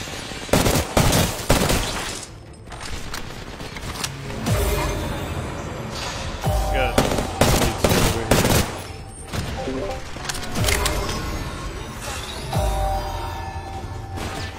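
Rapid bursts of automatic gunfire from a ranked online shooter match, with dense volleys, crashes and whooshes packed across the whole stretch, loud and close with only brief lulls between fusillades.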